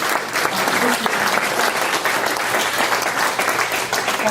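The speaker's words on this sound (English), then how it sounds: "please, a round of applause for everyone here on the panel." A conference audience at a tech and startup summit gives a steady, dense round of applause for a panel, loud and continuous throughout without a break.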